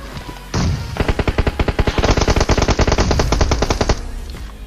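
Automatic gunfire in the battle royale game PUBG: one short shot, then long rapid bursts of many close, loud, evenly spaced cracks that stop abruptly near the end.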